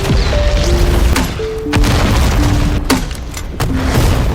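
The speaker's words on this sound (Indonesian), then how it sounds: "dia langsung meledakkan semua kendaraan milik Zurab supaya dia tidak bisa kabur" Vehicles blow up in an action film, heard as loud booming explosions and crashes layered over a dense, roaring score, with several heavy hits over a few seconds.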